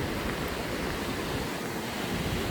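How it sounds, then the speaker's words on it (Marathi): Steady rushing water roars without a break, a broad constant wash from small waterfalls nearby beside a farm road in Karjat during the monsoon, with no voices. "हे असे धबधबे आहेत वॉटरफॉल्स आहेत"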